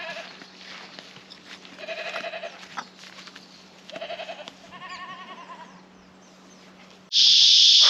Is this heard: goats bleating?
yes